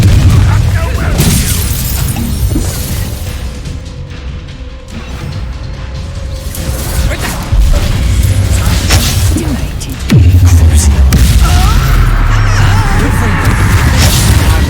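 Confringo blasting spell in the Hogwarts Legacy video game: a loud, deep explosion booms out suddenly amid dense spell effects and battle noise, with game voices speaking around it.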